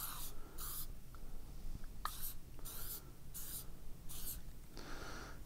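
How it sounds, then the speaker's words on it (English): Short hissing bursts from an aerosol can of liquid penetrant, sprayed lightly onto base metal for penetrant testing, come close and fairly loud in about six separate puffs with brief pauses between them. "Spray it, just lightly spray it."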